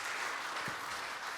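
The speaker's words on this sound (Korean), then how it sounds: "우리 박수 한번 부탁드리겠습니다" Congregation applauding in a church after a hymn performance at an afternoon worship service, steady dense clapping sustained throughout the short moment.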